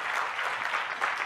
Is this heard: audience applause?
yes